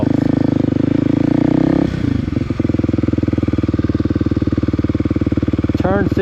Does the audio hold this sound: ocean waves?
no